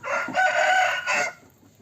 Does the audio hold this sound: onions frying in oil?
no